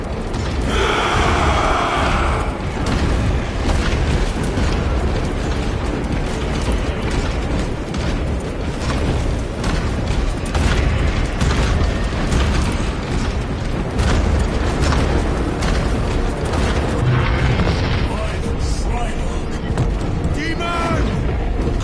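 Gunfire and explosions from Warhammer 40k Space Marine 2 form a dense, loud, continuous battle din of clattering shots and booming impacts, with voices shouting over the noise throughout.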